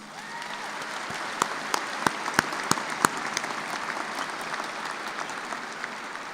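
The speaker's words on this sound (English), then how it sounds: "Please join me in giving our Platform Party a round of applause." A commencement audience applauds the graduation platform party with steady, dense clapping that carries through to the end, a few louder individual claps standing out near the front.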